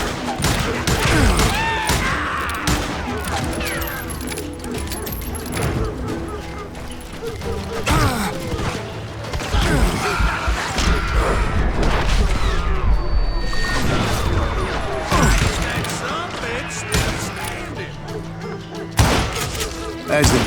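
Gunfire in the Call of Juarez Gunslinger video game: rapid bursts of shots, crashes and thuds in a busy Western shootout, loud and near, with voices calling out between volleys.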